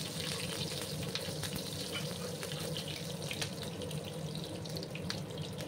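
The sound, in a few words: nigella seeds and green chilies sizzling in a frying pan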